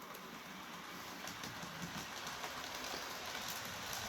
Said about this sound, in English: This Bachmann locomotive is a deceptively good puller.